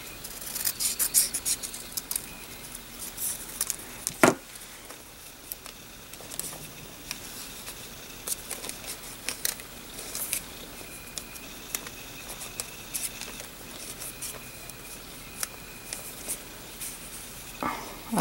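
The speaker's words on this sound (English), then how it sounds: "let me cut around the edges here" Scissors snipping around the edges of paper, a series of faint, quick irregular snips and rustles close by, with occasional soft handling clicks over roughly eighteen seconds.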